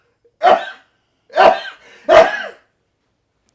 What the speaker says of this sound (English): it was a cough sneeze